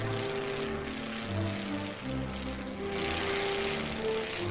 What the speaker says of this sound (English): Light planes are used on tactical missions like this.